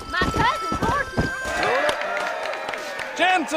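Horses' hooves clop in the Red Dead Redemption video game as a crowd gathers before a horse race, with a horse whinnying, people talking and cheering over the hoofbeats.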